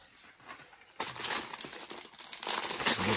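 Plastic bag of LEGO City passenger train set parts crinkling and rustling up close, quiet at first then louder and busier, with no talking.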